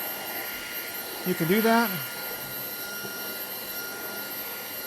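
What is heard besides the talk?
SUNSMAI cordless wet dry vacuum sucking up debris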